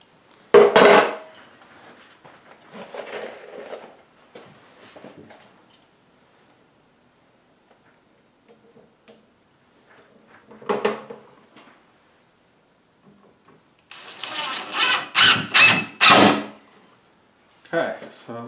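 Woodworking on chicken coop roof sheathing: scattered sharp knocks and bumps early, a brief burst near the middle, then a dense run of loud, rapid impacts like hammering or driving near the end, close by and with no talk over it.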